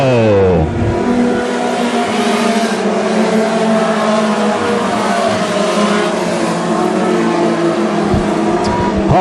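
WISSOTA modified race cars at Ogilvie Raceway roar past the grandstand, a loud, continuous engine drone with rising and falling revs as several cars pass close by, with no talk.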